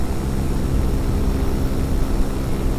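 An electric paramotor's motor and propeller drone steadily in flight with a constant buzzing whir, loud and close throughout, with no talking.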